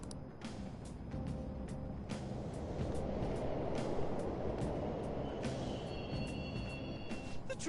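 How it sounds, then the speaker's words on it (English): Subway trains running in Persona 5 Royal give a low, steady rumble with faint screeching tones, a continuous quiet mechanical drone heard alone. "The trains are totally running."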